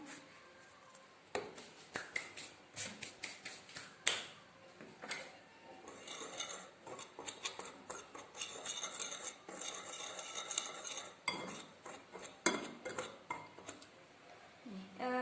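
A utensil stirs a mixture in a metal pot, making quick rhythmic clinks and scrapes in bursts with short pauses, close but soft.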